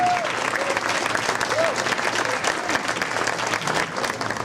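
Audience applause at a Juneteenth program held by a Black chamber of commerce, a steady dense wash of clapping from a sizable crowd, with a few faint voices mixed in.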